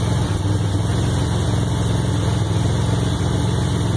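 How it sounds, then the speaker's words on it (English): A van engine idles steadily up close, a continuous low rumbling drone with a faint irregular puffing texture from an exhaust leak. "Got an exhaust leak."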